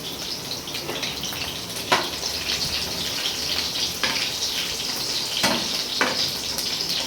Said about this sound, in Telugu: ఇవి వేగిన తర్వాత మనం పచ్చిమిర్చి వేసుకున్నాం ఎప్పుడైనా ఆవాలు వేగితేనే టేస్టు